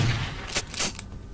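A video game shotgun fires in two quick booming blasts with a short gap between them, heavy and fairly close over a rumbling background, no voices.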